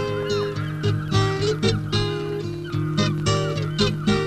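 Wild geese and other waterfowl calling in Alaska, a dense flock of overlapping honks and cries, loud and steady with repeated calls and no talking.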